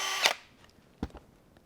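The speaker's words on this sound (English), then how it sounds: "drill a little hole through it" A short whirring burst from a small power drill boring a hole through a zip tie, followed by a couple of faint clicks and taps, close by in a quiet room.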